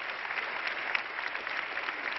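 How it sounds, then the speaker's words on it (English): An audience applauds four panelists at a United Nations event, a short burst of dense, even clapping heard from within the room without any break. "Please, you can make a big applause for the 4 of them."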